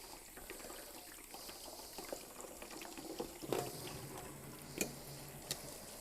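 Tap water runs through a strainer holding rinsed canned black beans, a steady soft hiss and splash with a few brief clinks and knocks, quiet and close, no voices.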